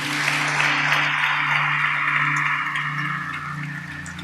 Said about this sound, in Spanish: Le dan un fuerte aplauso a Dios.